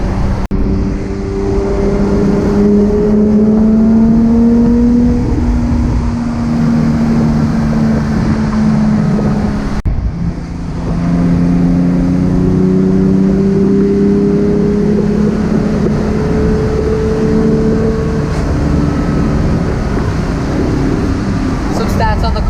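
A 2019 Porsche 991.2 Speedster's 4-liter flat-six with individual throttle bodies revs loud and close, its pitch rising and falling in two long sweeps with a brief break between them, while speech runs underneath.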